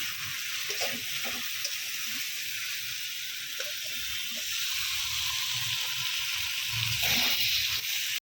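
Salted jackfruit sautés in a pan, a loud steady hiss of frying with scattered dull stirring thumps underneath, then an abrupt cut to silence.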